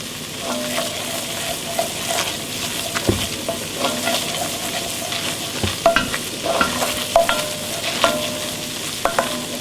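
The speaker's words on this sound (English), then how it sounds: "It should bubble nicely like this." A flour roux bubbles in a pan while being stirred steadily, with soft continuous sizzling broken by scraping strokes and small pops, close up and with no talking.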